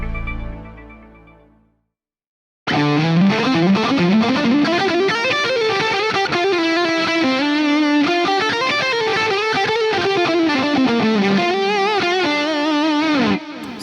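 A driven electric guitar played through an amp with a PRS Horsemeat overdrive pedal in front, thick and saturated with extra gain, strumming a sustained riff loudly after a brief fading note and pause.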